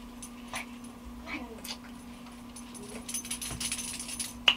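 Small dogs whimpering and yipping softly indoors, faint brief cries scattered over a steady low hum, with people talking nearby.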